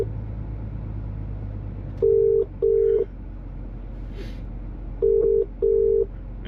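A phone call ringing tone sounds from inside a truck cab, two pairs of short steady beeps repeating in a double-ring pattern over low engine rumble.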